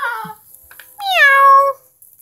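Kittens learning to walk: a short high meow at the start, then a longer, louder, clear falling meow close by, with quiet room noise around it.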